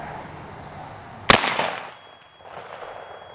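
A .500 S&W revolver fired once into an interior wall: a single sharp, very loud blast that rings and decays over about half a second, followed by faint room noise.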